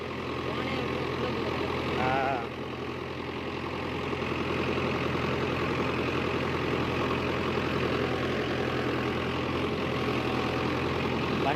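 A Mahindra Yuvo Tech+ 585 4WD tractor pulls a 5-tine cultivator across farmland, its engine a steady, loud drone throughout, with voices talking over it.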